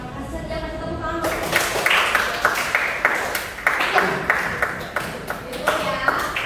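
Applause for a student in a vocational high school design class: a group claps in an uneven, pulsing rhythm for several seconds after a brief spoken bit at the start, with talk running underneath.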